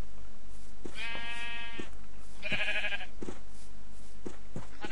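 Two drawn-out Minecraft sheep bleats, wavering and nasal, over a steady background hum with faint clicks; game-like and close.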